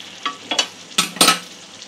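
Chicken pieces for jalfrezi frying in a pan, a soft sizzle punctuated by a few quick spatula scrapes and stirs, close up and without voices.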